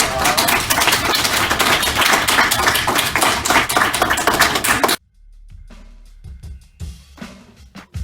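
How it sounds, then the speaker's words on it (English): An audience claps vigorously for a full, dense burst of applause after a talk on childhood history and graphic memoirs, then the clapping stops abruptly, leaving a few scattered, quieter taps. "let's give them a big round of applause"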